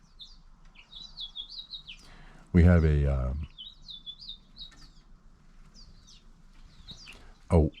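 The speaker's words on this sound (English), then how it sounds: "look at those birds" Various wild birds chirp and tweet repeatedly in short bright bursts outdoors, close and fairly clear, while someone speaks briefly over them.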